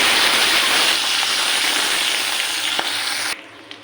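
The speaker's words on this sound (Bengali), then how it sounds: "এখানে আমি পেঁয়াজ দিয়ে দিয়েছি তেলের মধ্যে" Onions frying in hot oil left over from frying rohu fish, a steady broadband sizzle that holds close and loud before cutting off sharply near the end.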